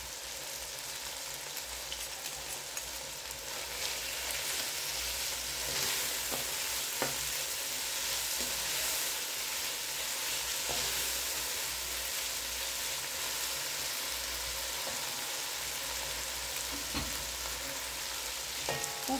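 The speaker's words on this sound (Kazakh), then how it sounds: "Осылай мінекей жақсылап қуырып," Tomato and filling for Indian-style manty fry in a pan, giving a continuous close sizzle with occasional light clicks of stirring and no talk.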